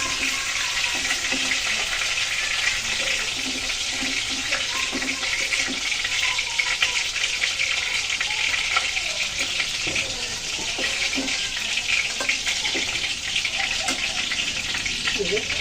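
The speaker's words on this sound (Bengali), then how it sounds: "বাকি মাছগুলো এভাবে ভেজে নেব।" Pieces of tilapia fish frying in hot oil, a continuous bright crackling sizzle with small pops, steady throughout and close up.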